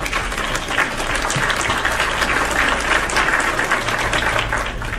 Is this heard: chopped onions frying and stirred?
no